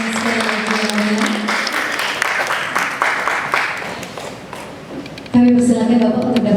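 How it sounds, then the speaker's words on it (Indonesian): An audience claps steadily at an award ceremony, a continuous wash of applause that slowly thins out, with a host's amplified voice speaking over it at the start and again at the end. "Kita berikan tepuk tangan sekali lagi."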